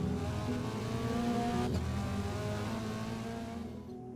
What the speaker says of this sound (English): That one's pretty self-explanatory because it's just car sound.